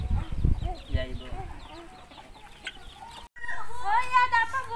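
Chickens clucking and chirping in a farmyard, loudest toward the end after a brief break, with a person talking over the earlier part.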